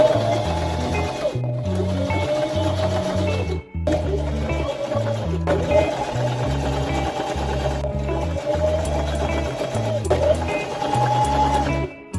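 A sewing machine quilts fabric panels in a small home studio: a steady, close mechanical whir that runs in long stretches, with a few brief pauses.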